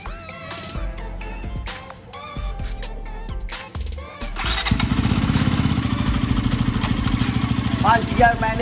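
A KTM Duke motorcycle fitted with a new chain and sprocket kit starts up and pulls away, its engine settling into a loud, steady thrum after some earlier clattering and handling noises.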